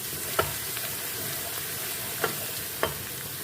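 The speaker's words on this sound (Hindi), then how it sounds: "अब इसमें हम लहसुन अदरक कूटा हुआ डाल लेंगे और इसको भी हम फ्राई कर लेंगे।" Crushed garlic and ginger frying in a pan with browned onions for chicken biryani, giving a steady soft sizzle with a few light clinks of a stirring spoon, no talking.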